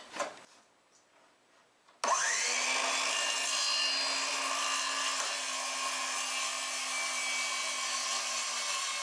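A power saw cuts wood for a desktop organizer, starting abruptly after a short quiet stretch and then whining loudly and steadily to the end, close up with no speech.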